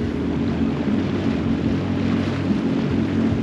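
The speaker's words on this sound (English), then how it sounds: "there's a boat about a kilometre away from me. It's so loud." A steady low tour boat engine drone hums continuously from about a kilometre away, with a faint wind-like hiss and no breaks or changes in level.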